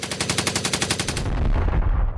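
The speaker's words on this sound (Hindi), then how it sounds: "हिंदुस्तान के जवानों के ऊपर गोलियां बरसाना शुरू कर दिया।" Loud machine gun fire in a battle scene: a rapid, evenly spaced burst of about a dozen shots, then a rolling rumble as it trails away.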